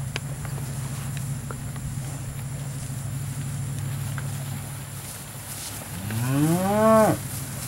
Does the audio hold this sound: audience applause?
no